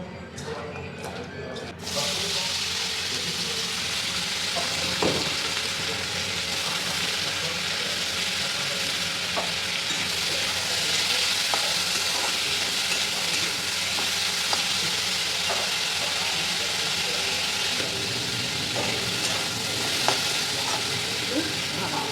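Chowmein ingredients sizzle and get tossed together in a hot pan, a continuous loud frying hiss broken by scraping stir strokes, with a person talking over it.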